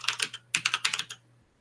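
Quick clicky keyboard typing in short bursts, fairly faint and close, with a low steady hum underneath before it stops.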